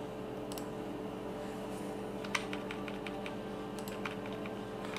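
A computer keyboard is typed on while a hex colour code is entered in Photoshop: a few sparse, faint keystrokes over a steady low hum, with a small cluster near the middle.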